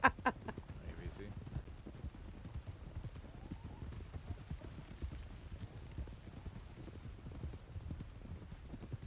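A horse walks in the Red Dead Redemption 2 video game, its hooves clip-clopping in a quiet, steady rhythm over soft ambient background, with brief talk at the very start.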